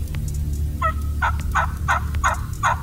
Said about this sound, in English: big old gobblers with swinging beards coming up along the edge of that field